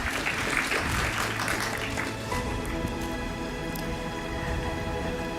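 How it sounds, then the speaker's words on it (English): A round of applause at an actuarial summit award presentation, a moderate clatter of clapping that thins and fades partway through, leaving a quieter tail. "Please give a round of applause."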